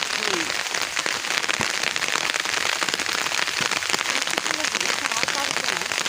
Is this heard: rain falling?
yes